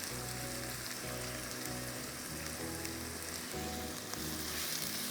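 Chopped onions sizzle steadily in hot oil in a pan, a dense continuous crackle like light rain, with a low hum underneath and no voices.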